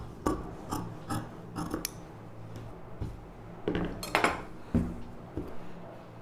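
Scissors cut fabric into a U-neck shape for an umbrella top, making close, crisp snipping and metallic clinks in scattered bursts against a quiet room.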